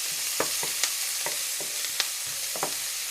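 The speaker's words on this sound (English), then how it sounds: "my onions are starting to sizzle, I'm going to stir this up a little bit" Sausage and onions sizzle steadily in a hot pan while a utensil scrapes and stirs in a series of short, irregular strokes, close up.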